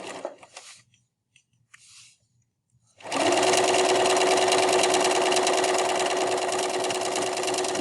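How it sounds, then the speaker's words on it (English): After a few soft handling noises, a sewing machine runs loud and close in one continuous, even stretch while back-stitching a fabric face mask. "I'm going to sew a couple of stitches, and then I'm going to press and hold my back stitch button to go all the way to the end"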